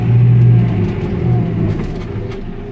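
A 2018 JCB 531-70 Agri telehandler engine runs steadily at close range as the machine turns in a tight space, a loud low rumble that swells briefly and eases, with no talk over it.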